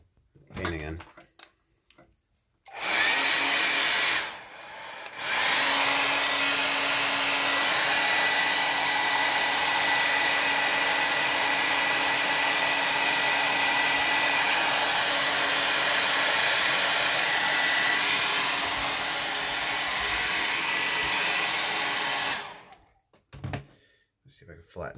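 A hair dryer blows steadily over watercolor paper, a loud continuous whoosh running for about twenty seconds with one short break near the start before it cuts off.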